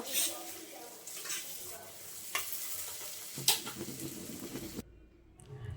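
Elephant foot yam mash with chopped coriander stirred in a hot pan, a soft scraping and sizzling with a few sharper spoon knocks against the metal, up close, before it cuts off near the end.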